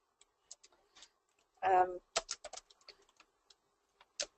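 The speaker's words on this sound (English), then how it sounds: "I'm pressing tab to move from field to field." Computer keyboard keys, including the tab key, pressed during data entry in Sage 300 Accounts Receivable software: sparse, light clicks spaced through the stretch, with one louder, fuller burst near the middle.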